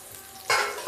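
Onion and green chili frying with garlic in a pan, a soft sizzle that swells suddenly into a louder, bright crackle as more goes into the oil, close by.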